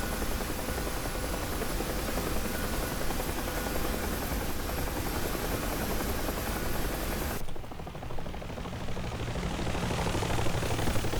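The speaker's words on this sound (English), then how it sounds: "Fair haul in a chopper." A UH-1 Huey helicopter flies in the DCS flight simulator, its rotor and turbine making a steady, loud, dense roar that continues without a break, with a slight shift in tone partway through.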